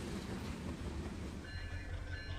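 A CSX freight train rolls past near the Tropicana yard, a steady low rumble of wagons on the rails throughout, with a faint high squeal joining in partway.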